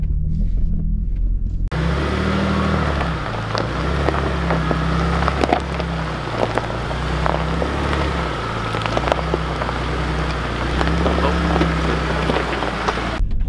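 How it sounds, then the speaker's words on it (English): A Ford Raptor pickup crawls uphill over rocks on a mountain trail, its engine rumbling steadily and rising and falling as sharp knocks and scrapes from the rocks sound up close. "I'm going over these rocks, just so I don't scrape the underside of the truck"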